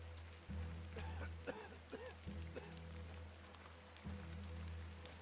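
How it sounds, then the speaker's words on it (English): A person coughs in the point-and-click adventure game The Excavation of Hob's Barrow: a few rough, spaced bursts set against a soft, continuous rain ambience in rainy England, with no talk. "I hear somebody coughing."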